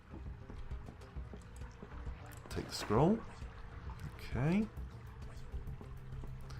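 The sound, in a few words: water in the video game Barony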